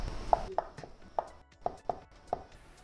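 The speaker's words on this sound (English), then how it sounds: "Let's just slice this into cubes." A knife cutting a block of Eden cheese into cubes on a board, six or so crisp, evenly spaced taps, close and fairly quiet with no talk over them.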